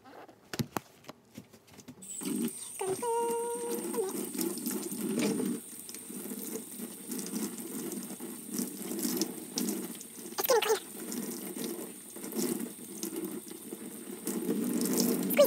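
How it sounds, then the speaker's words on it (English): Tap water runs into a sink as a cleaning mitt is rinsed and rubbed under the stream, a steady close splashing with some squeaks and handling noises and a few knocks at the start; no one speaks. "And then you wash it."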